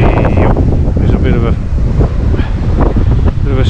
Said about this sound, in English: this is a problem with the wind gusting